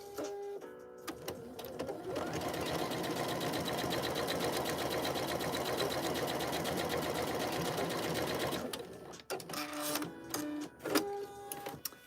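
A sewing machine stitches a duster garment in one steady, loud whir lasting several seconds, with short bursts of softer handling noise before and after.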